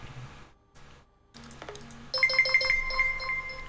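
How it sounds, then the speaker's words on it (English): A mobile phone ringtone chimes in a bright, repeating melodic pattern after a few seconds of quiet room noise. "that was my phone."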